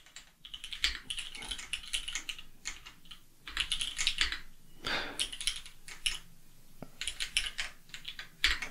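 Fingers type code on a computer keyboard, quick bursts of crisp key clicks separated by brief pauses, close and clear with no talking.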